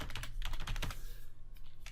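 A username being typed on a computer keyboard, a quick close run of key clicks for about a second before the tapping stops.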